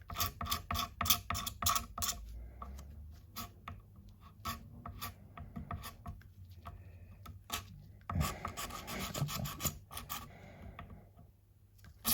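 Oily grime being scraped and rasped off the parts of a Rally GL300 mower during a strip-down, a close, rapid series of short scratchy strokes with brief pauses between bursts.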